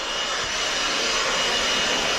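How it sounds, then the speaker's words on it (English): Dust being blown out of a parked, shut-down MX245 tractor with a high-pressure air blower, a loud continuous rushing hiss that stays steady and close throughout. "Dad and Addie are getting all the dust blown out of here."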